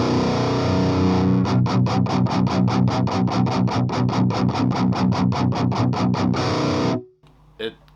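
An electric guitar through a Coven-modded Marshall Origin 50 amp with a tightened low end, chugging distorted palm-muted riffs in a fast, even rhythm, loud and close, then cutting off abruptly with a short string noise after.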